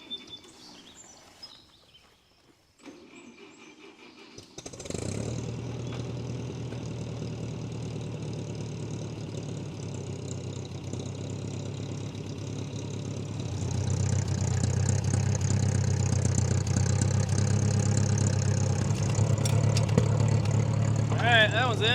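A 1958 Massey Ferguson 50 tractor idles steadily after a few seconds of quieter sounds, its low rumble growing louder partway through, with birds calling faintly in the background.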